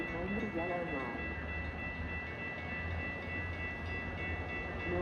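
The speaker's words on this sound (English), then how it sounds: "Milwaukee North train number 2153 to Fox Lake is now arriving." A Metra Milwaukee North commuter train to Fox Lake pulls into the Lake Cook Road station during a blizzard, giving a steady low rumble with squealing tones, while a voice speaks near the start.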